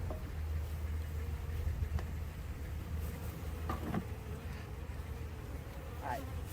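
Honeybees from newly installed packages fly and buzz around the hive, a low, steady droning hum close by, with a voice speaking briefly over it.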